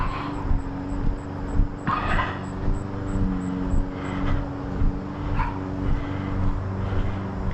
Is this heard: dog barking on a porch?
yes